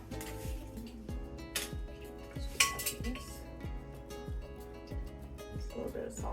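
A spoon clinks repeatedly against a bowl as nutmeg and salt are stirred together for an old-fashioned pear pie, making a steady rhythmic tapping and scraping close by.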